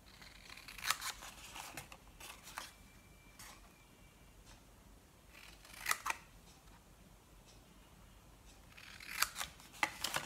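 Scissors snipping cardstock along a score line for small gift packaging, a few crisp separate cuts clustered near the start, middle and end over a quiet background, close and fairly soft, with no voices.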